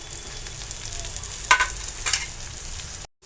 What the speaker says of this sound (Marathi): तो मी ह्याच्यामध्ये आता व्यवस्थित तेलामध्ये परतून घेणार आहे.